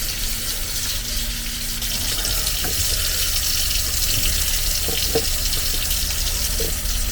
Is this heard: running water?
yes